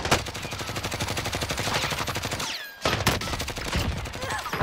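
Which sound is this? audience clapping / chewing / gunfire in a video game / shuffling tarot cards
gunfire in a video game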